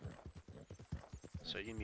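Horse hooves clip-clop in a steady, rhythmic series of close strikes while people talk over them.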